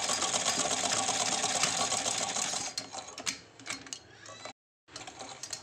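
A sewing machine stitches a fabric cover at a steady rapid clatter, then runs in uneven bursts before a short pause and a final burst.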